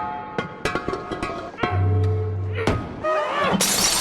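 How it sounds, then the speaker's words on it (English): A vase is smashed at a wedding, a sharp shattering crash near the end that follows several thuds and dull knocks amid music and scattered voices. "it's vase breaking time"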